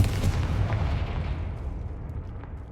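A Confringo fire spell bursting in Hogwarts Legacy: a loud, rumbling blast that decays over a couple of seconds into a low roar, with no talk.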